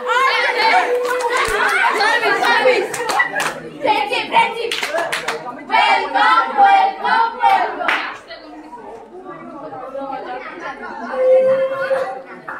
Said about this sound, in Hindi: ताली शुरू करो